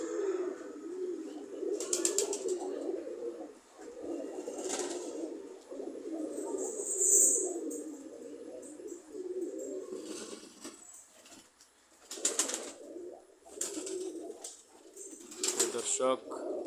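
Pigeons coo on their nests in a pigeon loft, a soft continuous chorus of low throaty calls at close range, with brief higher rustles and a voice heard now and then.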